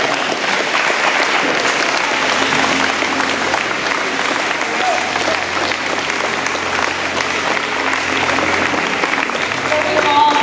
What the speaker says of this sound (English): Can we all please stand and give applause to Mr. T.R.I.P., Mr. Vinny Lee, Dr. Rita Mat